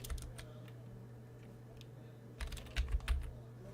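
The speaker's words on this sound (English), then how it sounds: "So we'll just type log" Keys on a computer keyboard tap in scattered bursts, a few soft clicks early, then a quicker, louder flurry of typing near the end, all over a low steady hum.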